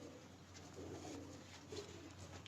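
A golden pigeon held in someone's hands coos softly and steadily, a low continuous murmur close by under faint background hiss, with no talk.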